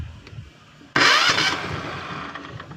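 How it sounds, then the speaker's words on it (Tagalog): A generator engine, just repaired after a faulty starter solenoid, cranks and catches at once, jumping from quiet to a loud, steady mid-pitched running roar that holds close by. "subukan natin kung iikot yung motor nya testingin natin"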